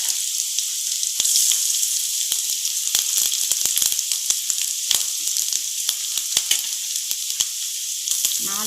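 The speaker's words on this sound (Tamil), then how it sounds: "அடுத்து கருவேப்பிலை. இதை கொஞ்சம் நல்லா வதக்கி விட்டுக்கலாம்." Curry leaves, onion and grated coconut sizzle steadily in a hot pan for coconut pepper rice, with an even, close frying hiss punctuated by sharp crackles and spatters from stirring.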